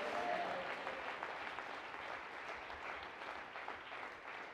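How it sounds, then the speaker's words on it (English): Congregation clapping hands together in a steady, dense wash of applause at a church service, moderately distant and fairly even throughout. "Clap your hands if this makes sense and say amen"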